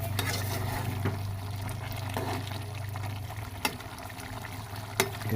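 Chicken and whole green chillies stirred in a cooking pot: a steady low sizzle and scraping under a constant background hum, broken by a couple of sharp spoon knocks against the pot.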